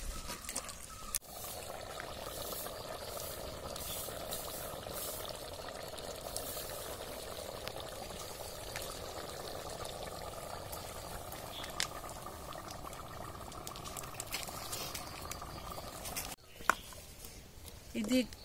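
Chicken sukka with masala simmering in a mud pot in coastal Karavali style, a steady soft bubbling hiss running evenly throughout with a brief clatter near the end.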